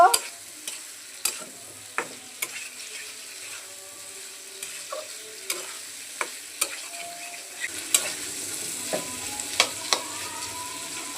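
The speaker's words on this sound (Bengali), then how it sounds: "এখন ভেজে রাখা সবজিগুলো দিয়ে দিচ্ছি। মশলার সাথে সবজিগুলোকে আর একটু কষিয়ে নেব।" Fried vegetables stirred and sautéed with masala in a pan for a Bengali koi fish curry with potato and taro, a steady sizzle broken by repeated sharp spatula scrapes and clinks, close and alone.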